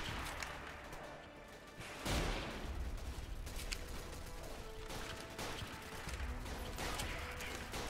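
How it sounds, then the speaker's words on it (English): Long-range gunfire in the shooter game Freeman: Guerrilla Warfare, with a loud crack near the two-second mark and more shots and battle noise continuing over a dense, busy background. "getting a couple of those long range"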